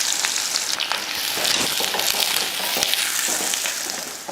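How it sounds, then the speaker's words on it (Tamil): Shallots, garlic cloves and green chilies sauté in hot oil, giving a steady, close crackling sizzle with small pops and occasional stirring scrapes throughout. "வெங்காயம் பச்சை மிளகாயெல்லாம் நல்லா வதங்கிருச்சு"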